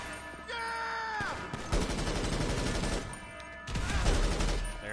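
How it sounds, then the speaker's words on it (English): An explosion in GTA Online lands as a loud, broadband blast. Rough rumbling bursts follow, with a second surge near the end, and a falling electronic tone sounds briefly at the start. "There goes the explosion."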